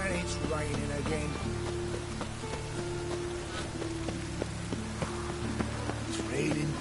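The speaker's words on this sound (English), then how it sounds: "And it's raining again." Rain falls steadily in a video game, a constant hiss of drops on surfaces. Faint game effects and tones sit over it, with no speech.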